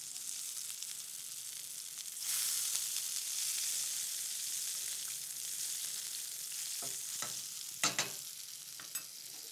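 Red mullet fillets frying in a pan, with a continuous close hiss that swells slightly midway and is followed by a few sharp clinks near the end.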